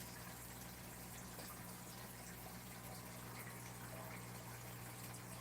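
Water pumped out and gushing into a blue barrel makes a steady, faint, broadband rushing hiss with a low hum underneath, unchanging and alone.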